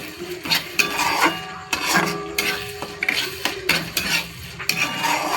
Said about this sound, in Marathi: आता टोमॅटो पीठ छान असंच भाजून घ्यायचं